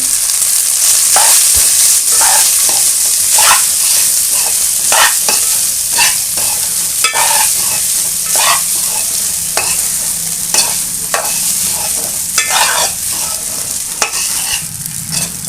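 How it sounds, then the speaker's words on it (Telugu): Close, loud sizzling of cooked rice frying in a pan of tempering spices, with a regular rhythm of scraping and stirring strokes throughout. "పోపులో అయితే ఈ పొడి పొడి వేసి పెట్టుకున్న రైస్ని అయితే యాడ్ చేసుకోవాలి"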